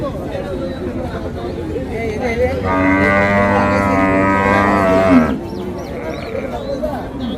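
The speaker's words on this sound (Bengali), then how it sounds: "পাশেও কিছু মাংসের গরু আছে এগুলোর একটু আমরা দামটা জানার চেষ্টা করব" Cattle at Paragram livestock market, with beef cattle and bony bulls for sale, give one long, loud, drawn-out moo in the middle of the clip, surrounded by background market chatter.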